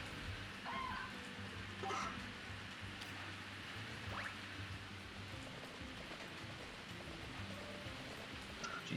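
Rain falls steadily in the farming game Story of Seasons: A Wonderful Life, a soft, continuous patter with faint droplets and a low background hum, heard alone at moderate level.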